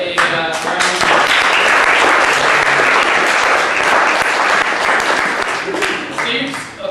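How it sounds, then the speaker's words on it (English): Loud, full applause from a debate audience swells quickly and holds as a dense wall of clapping, then thins toward the end with individual claps becoming audible. "let's give Steve a round of applause"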